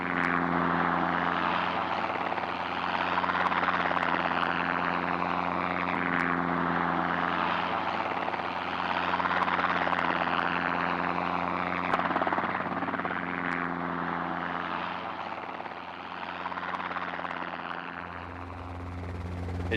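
Helicopters mustering cattle toward the yards on a dusty afternoon, a steady droning engine and rotor hum with a strong low tone that stays constant for the whole stretch at moderate distance, with no talk.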